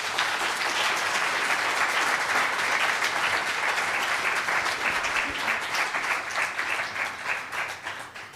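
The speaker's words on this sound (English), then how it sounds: "So a super big applause to Emily." A conference audience at PyCon Italia 2023 gives sustained, enthusiastic applause. The thick wash of clapping stays strong for several seconds, then thins and fades toward the end.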